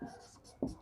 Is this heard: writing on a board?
yes